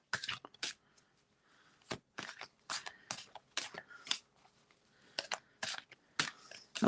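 Playing cards riffle and snap in quick, repeated bursts with short pauses between, close and crisp, no talking.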